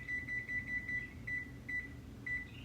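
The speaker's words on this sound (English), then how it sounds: "Set the timer." A kitchen oven timer being set, giving a run of short high electronic beeps in quick bursts over a low background hum, fairly faint and with no talk.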